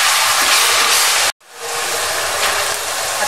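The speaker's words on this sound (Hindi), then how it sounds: "इसको तकरीबन 2 मिनट इसको हम भूनते हैं, फिर कीमा शामिल करते हैं।" Whole spices and dried coriander frying in oil in a karahi for Kashmiri qeema, a loud, steady broadband hiss and crackle that cuts out briefly and then resumes just as strongly.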